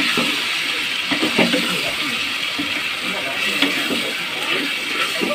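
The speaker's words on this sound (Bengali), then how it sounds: "ভালো করে আলুটার সাথে মিশিয়ে নেব" Potatoes being stirred together with ground ginger, onion, garlic and cumin in a pan for a fish curry, giving a steady low sizzle with scraping and stirring strokes, close and continuous throughout.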